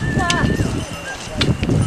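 Hooves of a pony clip-clop along the Kailash pilgrimage trail out of Darchen, a steady close plodding beat heard under someone talking.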